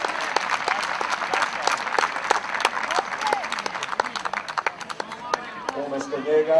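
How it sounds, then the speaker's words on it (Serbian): Spectators at a Jedinstvo versus Radnički Novi Beograd football match applauding a substituted player, brisk sharp claps in a crowd over several seconds, fairly close, while an announcer's voice carries over the stadium. "Veliki aplauz za Marka Adamovića."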